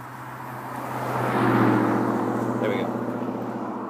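A car drives past outdoors, its engine hum swelling to a peak in the middle and then easing off, heard at moderate distance.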